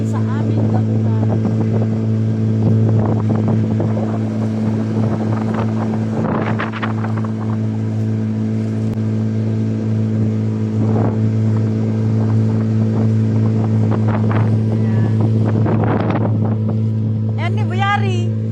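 Steady, droning motorboat engine of a river ferry on the Sta. Maria–Cabagan crossing in high water, holding a constant low hum throughout as it nears the landing, with wind buffeting and occasional voices in the background.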